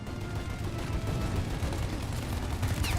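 Gunfire in the video game Mafia: Definitive Edition, a dense continuous burst of shots and booming battle noise lasting the whole stretch, loud and close with no talking.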